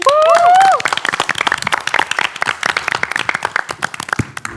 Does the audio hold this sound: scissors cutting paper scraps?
no